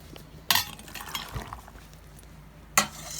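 Pickle brine is ladled into a glass jar, heard as two sharp clinks of the ladle against the glass with soft liquid sloshing between them, close and otherwise quiet.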